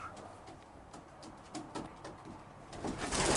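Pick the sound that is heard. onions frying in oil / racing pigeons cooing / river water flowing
racing pigeons cooing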